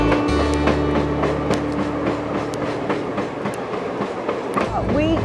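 Ozark Railway passenger car rolling along a curvy track, with a steady low rumble, rhythmic clickety-clack of wheels over rail joints and occasional high squeals from the curves, sustained and fairly loud throughout.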